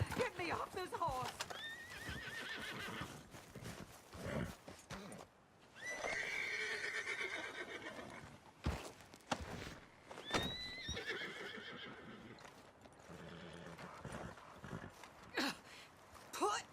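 Horse in Red Dead Redemption 2 whinnying and neighing, with hooves clip-clopping through the scene, heard amid frequent talking and shouting voices.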